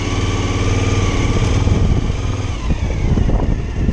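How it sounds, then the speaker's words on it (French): A Suzuki V-Strom 1000 Black Edition motorcycle pulls away in first gear at low revs without throttle, its engine a loud, close, steady throbbing drone that rises slightly and chugs as it moves off. "on passe la première et la moto démarre toute seule sans accélérer"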